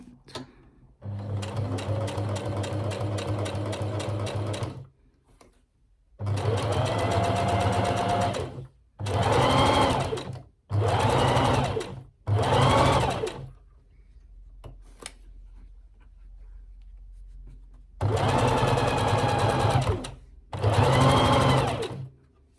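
Sewing machine top stitching a wool coat, running in several steady bursts of rapid mechanical whirring separated by short pauses, close and fairly loud.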